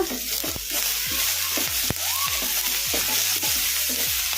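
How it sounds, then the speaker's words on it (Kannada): Bitter gourd frying in oil in a pan over a medium flame, sizzling steadily while a spoon stirs it in repeated scraping strokes, close and clear with no talking. "ಮೀಡಿಯಮ್ ಫ್ಲೇಮಲ್ಲೇ ಫ್ರೈ ಮಾಡ್ಕೋಬೇಕು"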